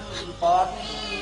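A cat meows once, a short, fairly loud call rising out of a murky, noisy background.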